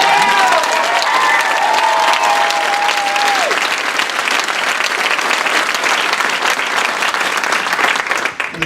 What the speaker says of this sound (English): that has to be met with applause